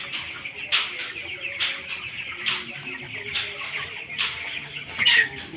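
Young chickens around seventeen days old, including a three-legged one, cluck and peep steadily nearby, with soft repeated calls and occasional louder squawks over a quiet barn background.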